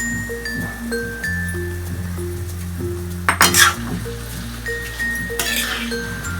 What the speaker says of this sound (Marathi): आता आपण तांदूळ टाकूया गॅस फासच ठेवायचा आणि परतून घ्यायचं व्यवस्थित